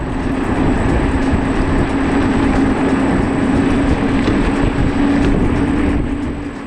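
A Ninebot electric go-kart runs at its top speed, giving a steady, loud whirring hum with a sustained motor whine and road rumble, unbroken for several seconds and free of talk.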